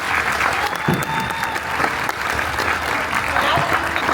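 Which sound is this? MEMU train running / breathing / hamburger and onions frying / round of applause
round of applause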